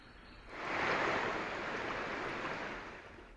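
Floodwater of the swollen Bharja river at Mandivali village near Dapoli, Ratnagiri, rushing past in a broad, steady roar that swells in after a quiet half second and holds loud and continuous, with no voices.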